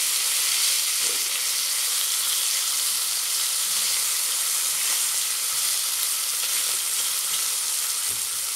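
Bacon frying in a pan, giving a steady, close sizzle and crackle that holds evenly throughout with no talking.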